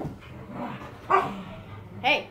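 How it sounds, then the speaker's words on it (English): A pet dog barks twice in sharp, close bursts, a short one and then a louder final one, over a quiet room, with a person's voice speaking briefly. "That's my dog."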